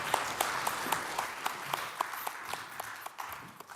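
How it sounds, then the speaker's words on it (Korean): A church congregation claps during a Sunday worship service, a fairly quiet round of applause with distinct individual claps standing out in a loose, uneven rhythm over a softer background of hands. "하나님께 영광의 박수를 올려드리겠습니다"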